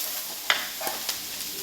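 Onions soften in a hot pan for shakshuka, a short stretch of soft sizzling with a couple of quick spatula scrapes, close and moderately quiet, no voices.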